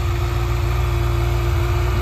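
A 2023 Kawasaki Ninja ZX-6R sport bike idles steadily nearby, a constant low engine drone with a fine mechanical buzz, loud and unbroken with no voices.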